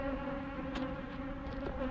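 Honey bees buzz around a hive in a steady, dense drone with a few louder passes near the listener, faint overall and without talk.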